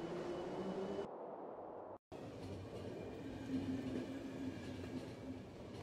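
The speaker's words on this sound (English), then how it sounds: "Now we're back on the train." Train ride aboard the locomotive in the video game The Final Station: a steady, loud rumbling rail drone with clickety-clack wheel texture that holds through the whole stretch, broken by a short hush and one brief dropout near the start.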